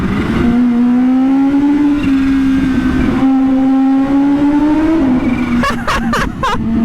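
Kawasaki Ninja H2 engine roaring loudly up close on a night ride along a road, its pitch rising and falling through several rev swells, ending with a few sharp gear-shift pops.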